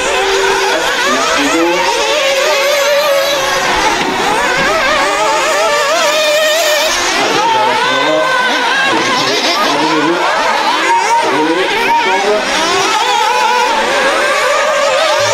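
Several nitro-powered RC race cars scream through a final-round elite nitro race, a dense, continuous high-pitched engine whine with rapid throttle blips and wavering revs, loud and sustained throughout with no pauses.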